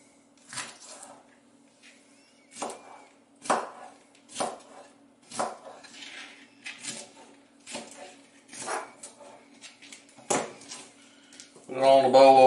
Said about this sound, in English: We're gonna cut the end of that off, and we're just gonna quarter this one